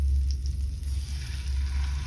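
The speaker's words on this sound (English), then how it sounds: "So my butter's starting to sizzle." Steady butter sizzle in a hot pan with a chicken thigh, a continuous crackly hiss with a low rumble underneath, close up and fairly loud, no talking.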